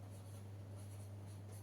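Faint, steady scratching of a marker or chalk on a board during a biology lesson on nucleic acids, running continuously under a low electrical hum with no speech.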